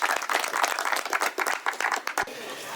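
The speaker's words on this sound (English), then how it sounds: "Let's give our 3 volunteers a big round of applause" A small crowd of visitors at the Santa Cruz Mystery Spot claps for three volunteers, close, sharp individual claps in a brisk patter that fades out just before the end.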